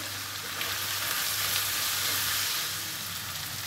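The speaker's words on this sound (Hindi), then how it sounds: "3 से 4 मिनट अच्छी तरह हमने पोटों को भूना है" Chicken gizzards frying with ground black pepper and chaat masala in a pan, giving a steady, loud, close sizzle that carries on alone throughout, with no talk.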